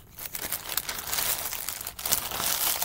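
A plastic package is torn and opened after being cut with scissors, giving continuous close crinkling and crumpling with a brief pause partway through.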